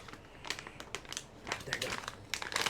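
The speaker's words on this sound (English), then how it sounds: "Why must these bags be so difficult to open?" A hard-to-open plastic bag crinkles and crackles in quick, irregular bursts close by, fairly quiet, with faint talk in the background.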